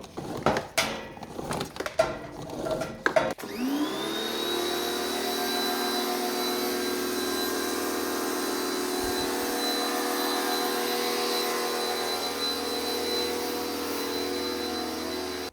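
A pressure washer fitted with a turbo nozzle starts spraying after a few seconds of clattering handling, then holds a loud, steady hissing roar with a high whine that stays close and constant to the end.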